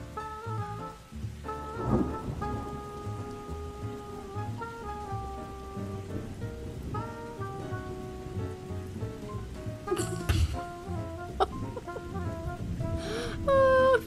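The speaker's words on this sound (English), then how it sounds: "And it's obviously raining outside." Rain and thunder in a Roblox farm game: a steady wash of rainfall beneath sustained tonal game sounds, broken by a couple of sharp, bright thunder crashes late on.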